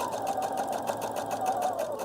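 A sewing machine stitching along the folded edge of a collar yoke on a top, a steady close whirring hum with a fast even needle pulse throughout.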